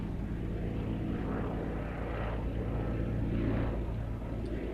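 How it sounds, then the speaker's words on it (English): A Westland Lysander propeller aircraft drones steadily during a pass at an evening airshow at Shuttleworth, sounding moderately distant. "Lysander, confirm this will be your last pass"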